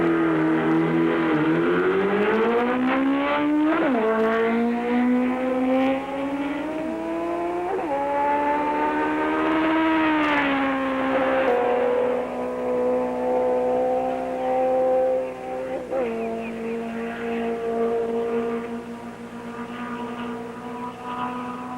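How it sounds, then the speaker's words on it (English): Kawasaki Z1 racing motorcycle on a track during a world-record speed run, a loud sustained engine howl whose pitch rises and drops through gear changes, passing close with no voices. "At 7:20 a.m., Duhamel brings the special Z1 onto the track."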